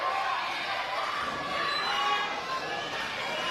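Wrestling crowd at a live event roaring and cheering in a steady, dense wash of voices that swells slightly midway, continuous throughout with no clear individual words.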